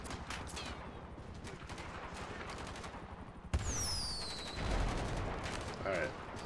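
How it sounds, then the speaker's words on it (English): A fireworks launcher firing in the GTA 5 video game: rapid bursts of popping, gunfire-like blasts, then a sharp boom with whistling streaks rising overhead, all over steady, noisy in-game ambience. "Alright, fireworks are not working"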